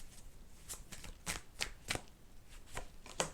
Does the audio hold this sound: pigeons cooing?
no